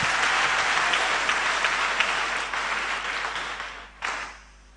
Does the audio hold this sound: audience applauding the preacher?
yes